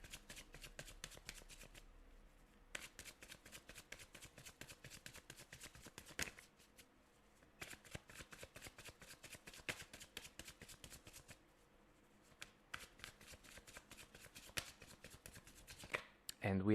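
Tarot cards are shuffled by hand in quick bursts of dense riffling clicks. Short pauses separate the bursts, and the sound stays quiet and close.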